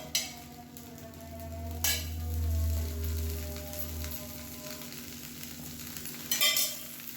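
Dosa batter sizzling in oil on a hot pan, a steady low frying hiss with a couple of brief scraping clinks, no voices.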